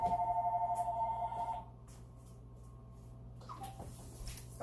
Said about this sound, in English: I knew my phone was going to start ringing